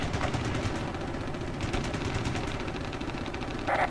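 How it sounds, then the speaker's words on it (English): Heavy, sustained gunfire during a ground operation backed by Apache helicopters, a dense rattling barrage of rapid shots that keeps going under a low engine-like rumble, loud and close, with no talking. "We're taking heavy fire"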